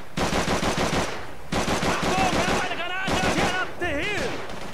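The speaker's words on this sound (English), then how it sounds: "I'm almost out of machine gun bullets already." Machine gun fire in the video game Call of Duty 3 rattles in rapid, loud, close bursts separated by brief pauses, with voices and wavering shouts mixed in toward the end.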